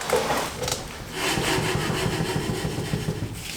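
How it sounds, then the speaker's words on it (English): BMW E46 M3 brake disc rubbing inside the caliper as the wheel is turned by hand: a continuous scraping, rasping rub at close range, swelling and easing with the rotation, no voices. "Most of that noise is the disc in the caliper."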